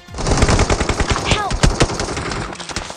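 Rapid automatic gunfire from a PUBG Mobile firefight, a dense run of loud, close sharp shots with a few heavier cracks mixed in, carrying on for the full three seconds without any voices.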